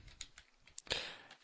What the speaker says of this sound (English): I'm having trouble typing today.